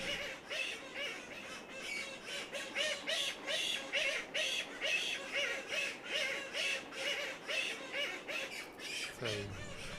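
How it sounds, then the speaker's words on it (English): A Westland petrel colony in a forest at night erupts in raucous squawking, harsh rhythmic calls repeating steadily and overlapping, loud and close, with a brief low voice near the end. "So there'll be a lot of squawking start up, and the colony will gradually come alive with noise."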